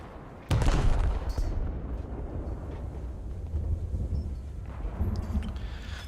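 A naval shell strikes a ship's ammunition in a World of Warships-style game with the IJN Kongo battleship, heard as one sharp, fairly close blast followed by a long rumbling roar, with softer distant booms later.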